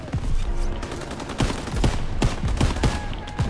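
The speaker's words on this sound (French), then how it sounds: "Daniel, trouve un fusil allumé et tire sur ses pattes" Loud, repeated gunfire from a Call of Duty WW2 match, with sharp shots and bursts fired in an irregular rhythm over a steady roar of battle noise.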